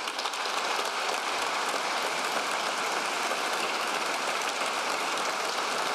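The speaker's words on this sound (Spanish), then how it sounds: "Démosle un fuerte aplauso a todos los campeones que hoy aquí nos acompañan" A crowd at a memorial ceremony honoring José Sulaimán gives sustained, dense applause for the champions present, a steady roar of many clapping hands from a large room, even and continuous without talk.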